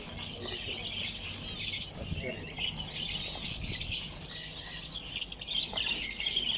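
Small birds chirp and tweet continuously in a busy covered bird market at Souq Waqif in Doha, a dense high twittering texture with occasional low thumps and faint background chatter.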